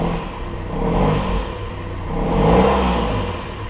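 A 2013 Mercedes C220 diesel engine runs with its intake removed, close and loud, rising in two smooth revs over a steady whirring, clattery idle.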